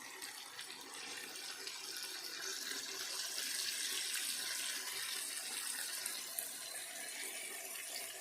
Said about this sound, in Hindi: ये पानी जो हमने 1 कप के करीब रह गया है इसमें शामिल करने लगे।